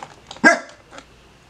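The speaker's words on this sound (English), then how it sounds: "There go my dog." A single sharp dog bark, close and loud, with faint quieter sounds around it indoors.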